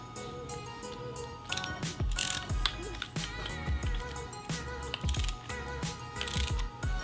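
A screw is tightened by hand on a modified GoPro Hero 5 swivel mount with a 1/4 inch threaded rod, giving a run of close, small clicking and ratcheting sounds with short metallic ticks spread through the clip.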